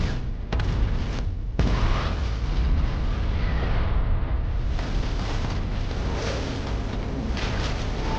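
A nuclear blast in a giant-monster film battle, heard as a sustained, loud roaring rumble with deep low-end weight and a couple of sharp bursts near the start, continuing without letup.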